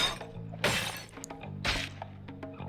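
Glass shatters twice under punches in the video game Bully, two sharp crashes about a second apart over a low, steady game background hum, with a few faint clinks between.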